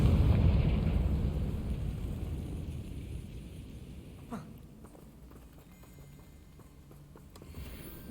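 A Confringo blasting spell from the Hogwarts Legacy game erupts in a heavy, rumbling explosion that starts loud and slowly dies away, followed by a sharp pop and a few light footstep-like taps.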